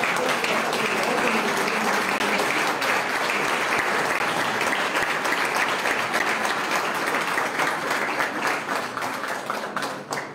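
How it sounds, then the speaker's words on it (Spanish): An audience at a tribute ceremony in Tepeaca gives sustained, dense applause that fills the whole stretch and stays loud and steady before easing slightly near the end. "Pido amablemente un último aplauso"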